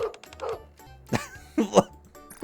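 Several dogs bark, yip and whine in short bursts in the Nikke video game, with sharp yelps rising over low background music and a loud whimpering cry near the end.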